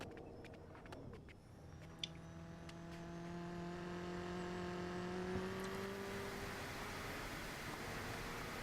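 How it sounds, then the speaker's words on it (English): A loud turbocharged car engine in the game Automation revs up alone, its tone climbing steadily and then holding a high, whirring pitch with turbo whine over the engine. "Damn, that turbo's loud."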